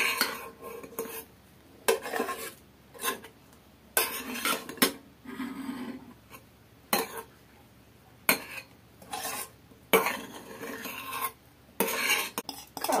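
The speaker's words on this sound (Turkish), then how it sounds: "Şimdi böyle karıştıralım yavaş bir şekilde" A spoon gently stirs a foamy mixture in a dish, giving irregular clinks and scrapes against the bowl, close and moderately loud, with quiet pauses between bursts.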